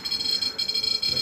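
A REM pod ghost-hunting device sounds a steady high electronic alarm tone that wavers slightly, continuous and fairly close, with faint room noise beneath it.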